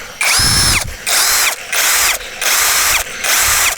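A Keelat KCD011 cordless drill spins at high speed in repeated bursts, five loud whining runs separated by brief pauses, close to the microphone with no talking.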